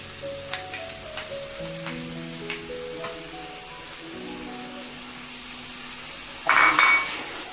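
Ground spice pastes go into a hot pan for a Bengali crab and drumstick curry: a few light utensil clinks over soft background tones, then a sudden loud burst of sizzling near the end.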